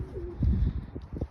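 Racing pigeons coo close by in a low, throaty series of soft repeated calls, several short pulses rising and falling over a faint background.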